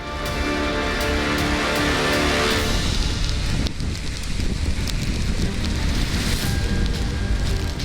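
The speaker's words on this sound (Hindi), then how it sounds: "यहाँ सुबह से ही तेज बारिश हो रही है।" Heavy rain and gusting wind lash down during Cyclone Yaas in 24 Parganas, a loud, continuous roaring wash of noise that barely lets up, with no voices.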